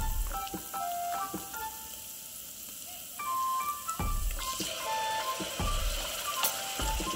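Tomato puree frying in hot oil with curry leaves in a pan over a village wood-fired stove, a steady hiss of sizzling with scattered crackles and pops, fairly close, with no talk.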